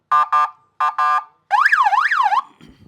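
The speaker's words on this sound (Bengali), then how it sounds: "আবু বক্কর ভাই এখানে যে হর্নটা ইউজ করছেন এটা আসলে দেখি আমরা একটু হর্ন হর্নটা একটু দেখব" The electronic horn on a homemade wooden bicycle sounds four short, loud beeps in two pairs, then a rising and falling siren-like warble before it cuts off.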